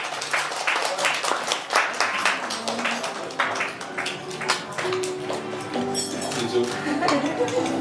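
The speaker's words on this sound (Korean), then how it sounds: "여러분들이 뜨거운 박수로 맞이해 주시기 바라겠습니다" Guests at a party venue applaud to welcome someone, a moderate crowd clapping mixed with clinking dishes and cutlery, while some chatter and background music run beneath the noise.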